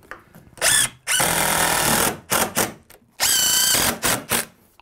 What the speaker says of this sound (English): we're going to put one screw into the jack and one into the king